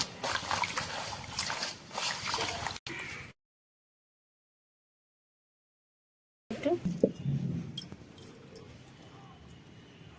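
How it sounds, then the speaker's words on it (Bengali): Pumpkin leaves are rinsed by hand in water, giving close splashing and trickling with a silent pause partway through; a voice may be faintly present. "পাতাগুলো ভালো করে ধুয়ে নেব"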